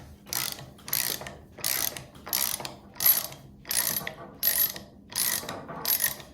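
A Milwaukee 3-in-1 lineman's high-leverage ratcheting wrench backs out a lag screw, its pawl clicking in eight steady, evenly spaced bursts of close, crisp ratcheting with short pauses between strokes.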